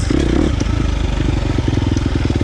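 KTM 350 XC-F dirt bike with a Vortex ECU tuned by Twisted Development, its single-cylinder engine running close and loud with a steady rapid pulsing note and a brief rev at the start.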